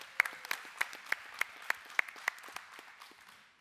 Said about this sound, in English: Give yourselves a round of applause for sure.